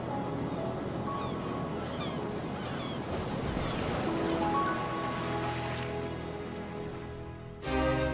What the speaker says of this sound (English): Sea.